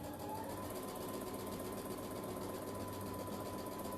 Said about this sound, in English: And we're going to start sewing